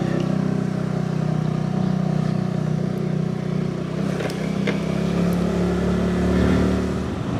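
A motorcycle pulls away on an old mountain road linking Cilacap and Kuningan in Java, its engine droning close and steady, then rising in pitch and loudness as it accelerates.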